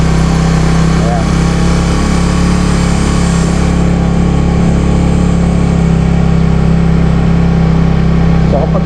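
A car engine hums steadily while driving slowly up a steep slope under light, gentle throttle, a constant close drone with a low hum throughout and a voice talking over it.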